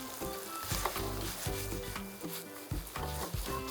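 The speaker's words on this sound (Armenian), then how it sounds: "Տապակում ենք թարխունի հետ միասին" Tarragon frying with meat in a pan for Armenian tzhvzhik, a loud close sizzle broken by rhythmic scraping stir strokes, no talking.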